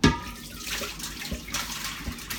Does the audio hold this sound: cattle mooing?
no